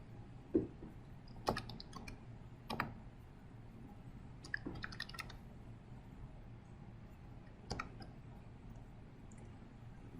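Sparse, irregular clicks of computer keyboard keys being typed, a handful of sharp taps spread out with pauses between them over a quiet room background.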